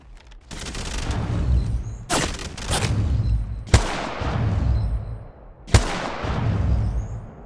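Gunfire in the Apex Legends battle-royale game: four sharp, loud shots at uneven intervals over a steady rumbling game background, each followed by a short decaying tail.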